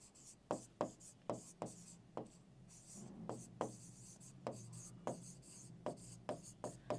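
Pen strokes scratch across paper as calculations are written out by hand, a series of short distinct scrapes in an irregular rhythm, close and faint in a quiet room.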